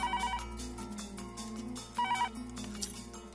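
A phone ringtone plays as a melodic electronic ring with repeating tonal phrases and a busy musical backing, steady and moderately loud throughout, with no talking.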